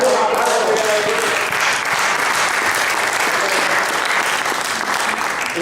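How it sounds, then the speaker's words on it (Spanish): A church congregation breaks into sustained applause, a dense, steady wash of many hands clapping at even loudness from start to finish, with no voices over it. "Dale un aplauso."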